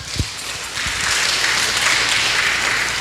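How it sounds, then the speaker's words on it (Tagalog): Steady crowd applause at a church healing service, a broad even wash of clapping that swells after a brief tap and holds to the end. "Hallelujah. Palakpak."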